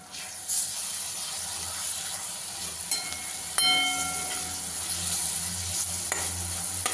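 Curry leaves and green chili paste fry in hot oil for a dry potato dish, a loud, close, continuous sizzle with scattered stirring clinks and scrapes and no one speaking.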